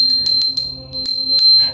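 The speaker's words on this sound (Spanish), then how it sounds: "Lo común era hacer sonar las campanas de la iglesia" Bells ring in a quick sequence of bright, metallic strikes with lingering high tones over a steady low hum, loud and close without any voices.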